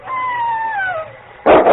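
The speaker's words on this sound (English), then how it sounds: "That was a wolf, and King's going to meet it." A wolf howls on a snowy night: one long, clear, wavering howl that slides gradually downward, fairly loud and alone, then a sudden loud burst of noise cuts in at the end.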